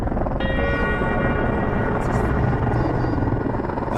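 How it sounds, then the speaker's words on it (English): Rescue helicopter flying over Mount Everest after an earthquake: a steady, loud rotor drone fills the whole stretch, with a faint tonal whine layered on top. "It's 24 hours before we see our first helicopter."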